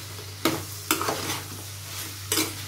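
A spoon stirs tomatoes and raw banana pieces in a pan for tomato curry, with a few distinct scraping strokes over a steady low hum, no talk.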